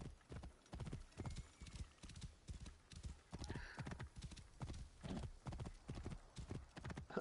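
Horse hooves clip-clop steadily in a video game as the rider mounts a dead man's horse, with a brief whinny partway through; the footfalls stay loud and close, beating in an even rhythm throughout.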